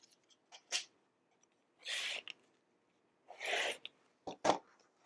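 Scissors or a rotary cutter trimming quilting fabric to square up a homemade potholder, heard as two broad rasping cuts plus a few short sharp snips and rustles, close and fairly quiet with no talk.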